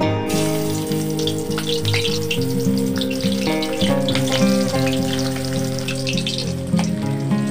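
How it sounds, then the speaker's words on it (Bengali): Small mourola fish pakoras frying in a wok of hot oil, a steady close sizzle that runs through the whole clip, loud, with music playing underneath. "এরপর কড়াইতে তেল গরম করে পকোড়ার মতন করে দিয়ে দিচ্ছি।"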